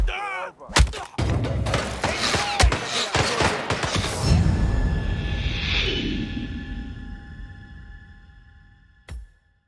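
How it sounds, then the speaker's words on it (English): Rapid bursts of gunfire crack and boom in quick succession, followed by a long rumbling whoosh and a final sharp shot near the end. "That was a gunshot."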